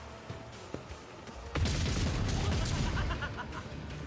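A gunfire volley in the video game Rogue Trader: faint scattered pops first, then a loud, dense burst of shots that continues as a rumbling barrage.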